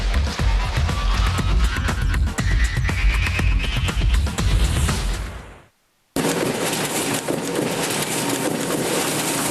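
Printing presses run at a print shop, giving a loud, dense mechanical clatter with rapid rhythmic thumps. The sound drops out briefly, then returns as steady machine noise.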